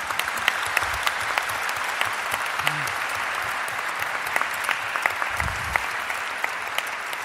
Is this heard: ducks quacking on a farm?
no